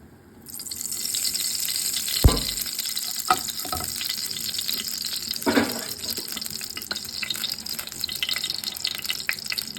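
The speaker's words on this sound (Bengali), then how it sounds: "এখন আমি কড়াইতে তেল ঢেলে দেবো।" Oil pours into a karai (wok) just emptied of fried small fish, giving a steady bright hiss and sizzle with a few clanks and splashy stirring bumps, close and continuous, without talk.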